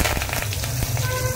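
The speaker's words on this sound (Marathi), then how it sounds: "राई बघा चांगली तडतडली आणि फुटली पण आहे।" Mustard seeds crackle and pop in hot oil for a tempering, a dense, close sizzle with quick sharp snaps over about a second and a half.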